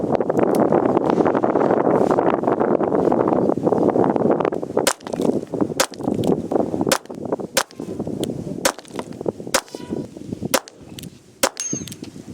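Suppressed shots from a Ruger LCRx .22LR revolver firing CCI subsonic 45-grain hollow points crack out one after another, about nine sharp close pops at uneven intervals over steady wind rumble.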